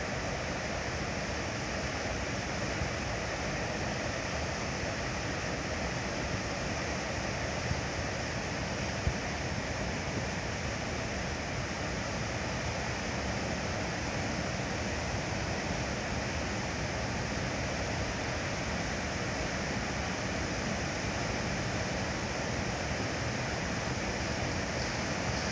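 Water rushing down a whitewater park channel in Pennsylvania, a steady, dense roar of turbulent flow that fills the whole scene without letting up, loud and close throughout.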